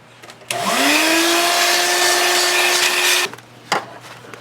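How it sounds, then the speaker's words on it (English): A vacuum cleaner sucks up metal shavings in a workshop. Its motor spins up with a rising whine, runs loud and steady for about three seconds, then cuts off, followed by a brief clunk. "you're going to want to vacuum up all of these metal shavings and everything"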